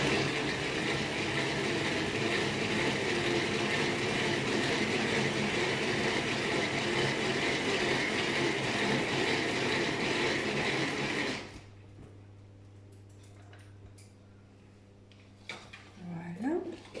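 A Speedy electric mixer whirs steadily and loudly through cake batter with flour for about eleven seconds, then switches off, leaving quiet kitchen sounds and a few small clatters while someone speaks.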